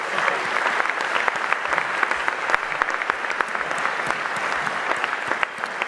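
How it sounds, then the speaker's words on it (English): Steady, dense applause from an audience filling a room at an awards celebration, loud and sustained for several seconds with crisp individual claps throughout. "I'd ask that everyone just give ourselves, everyone in the room, a collective round of applause"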